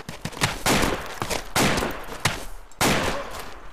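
Video game gunfire crackles in repeated bursts, loud and close, with sustained volleys broken by brief gaps over a few seconds.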